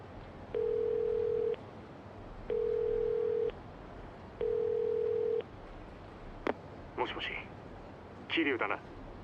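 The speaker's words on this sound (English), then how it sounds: "Just gotta make this phone call." Telephone in the video game Yakuza 0: three steady dial-tone style beeps of about a second each, evenly spaced, followed by a few short burbling ringing bursts, clear and close with no talking.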